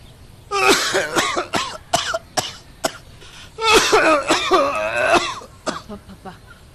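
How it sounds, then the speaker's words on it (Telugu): An elderly man in a Telugu radio drama coughs in repeated harsh fits and clears his throat, the bursts close and loud, with short pauses between. "చూడు ఎట్లా దగ్గుతున్నావు"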